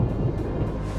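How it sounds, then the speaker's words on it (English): Low rumble of thunder from a storm moving in off the coast near Panama City, a dull continuous roll heard at a distance with no voices. "there is a storm coming"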